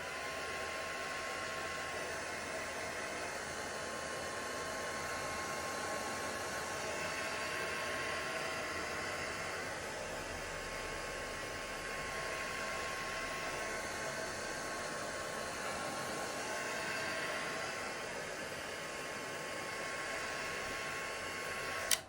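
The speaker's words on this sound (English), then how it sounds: "This is actually an embossing tool heater." An embossing heat tool blows hot air in an art studio during an acrylic floral painting session, a steady, even whoosh like a hair dryer that holds at one level for the whole stretch, close and continuous.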